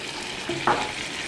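Whole cumin seeds dropped into hot oil, a short close sizzle that rises sharply in a quick burst over a steady background frying hiss.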